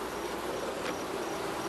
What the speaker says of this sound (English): Whoa, look at these bees.